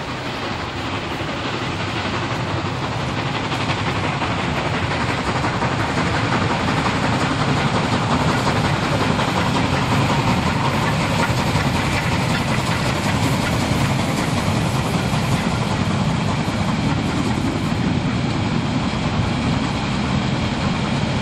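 The Molli narrow-gauge steam train heading out of Doberan, a steady, loud, close rumble of running rail wagons and engine noise that holds level for the whole stretch, with no voices.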